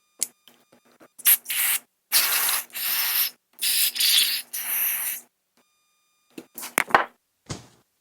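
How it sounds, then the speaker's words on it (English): Several loud hissing bursts of water spray cleaning dirt off a Toro lawn mower, each a second or so long with short pauses, followed by a few sharp clattering knocks. "We'll spray off some of the dirt, just make sure it's moving okay."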